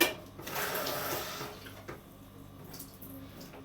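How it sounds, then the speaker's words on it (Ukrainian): Tap water runs into a container with a steady splashing hiss that is loudest at first and then settles to a softer, fuller trickle, close by and fairly quiet, with no talking. "Набираем воду."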